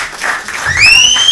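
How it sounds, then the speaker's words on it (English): Audience at a Brooklyn comedy show breaking into applause, a dense wash of clapping that swells and stays steady, with a whistle or cheer rising near the end. "Let me hear you start clapping right now."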